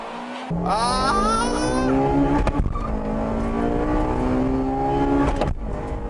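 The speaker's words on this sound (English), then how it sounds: "Here's about against a 2-liter turbocharged 220 horsepower Silvia." A Honda Integra Type R (DC2) races a 2-liter turbocharged 220 horsepower Nissan Silvia, with a loud, close engine note rising through the revs, a brief break around a gear change, then climbing again.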